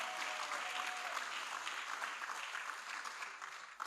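An audience at a preparatory school graduation ceremony claps in a brisk, continuous round of applause, fairly quiet and distant, holding steady for a few seconds before stopping.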